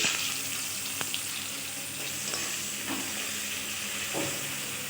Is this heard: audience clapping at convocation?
no